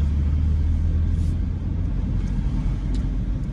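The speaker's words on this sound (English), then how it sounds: "So we're gonna safely merge back into traffic." Car driving through downtown Nashville traffic, a steady low engine and road rumble heard from inside, smooth and continuous with no talking.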